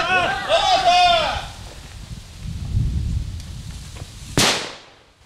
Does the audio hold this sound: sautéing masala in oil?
no